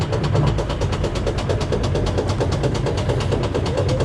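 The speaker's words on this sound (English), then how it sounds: "Here we go, Viking spinning coaster. Oh, smooth lift." A Viking spinning coaster at an amusement park climbs its lift, with a loud, steady mechanical drone and rapid rhythmic clatter running continuously and close by, with no talking.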